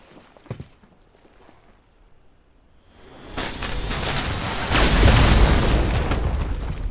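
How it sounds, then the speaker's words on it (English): An explosion in Final Fantasy XVI that starts after a quiet stretch with a few small knocks, then swells into a loud, sustained roaring blast with rumbling debris that keeps building to the end. "Explosion!"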